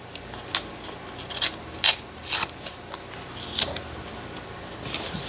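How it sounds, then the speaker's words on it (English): A book page is torn by hand for a garden junk journal insert, giving several short, crisp ripping bursts at close range with quiet pauses in between. "Just rip that."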